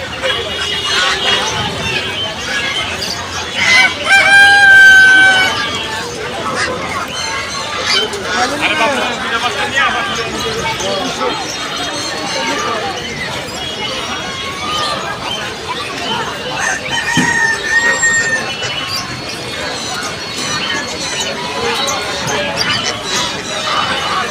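Chickens and ducks cluck and squawk amid a busy crowd's steady babble of voices, with scattered clatter throughout a noisy, crowded poultry market in Tongi, Bangladesh.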